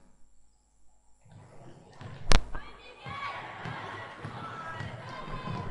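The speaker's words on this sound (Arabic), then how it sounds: "صوت ناس بتلعب باسكت بول." Sound effect of people playing basketball: a sharp loud bounce or slam near the middle, followed by busy court activity with squeaks and thuds over a crowd-like murmur.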